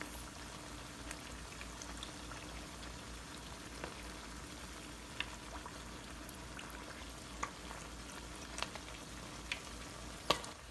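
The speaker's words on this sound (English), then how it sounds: "I'm trying to turn them so that way like they get golden brown on all sides" Rolled tacos (flautas) fry steadily in hot oil in a fryer, giving a soft, continuous bubbling sizzle with occasional small pops and crackles throughout.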